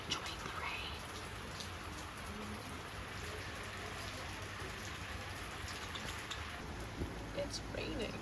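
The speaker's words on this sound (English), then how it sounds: "It's raining." Steady rain falls and patters on surfaces outdoors, a dense continuous hiss through the whole stretch, with a person talking faintly underneath.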